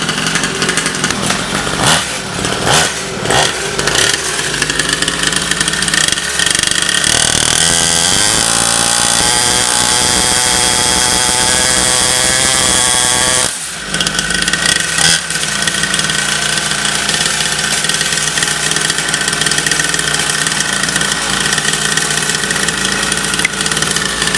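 A small two-stroke mini dirt bike engine runs continuously nearby, buzzing and sputtering at idle with occasional revs and a brief dip partway through.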